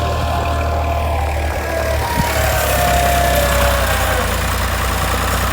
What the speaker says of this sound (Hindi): ये ट्रैक्टर ड्राइवर अपनी महारत से मिट्टी डाल रहे हैं।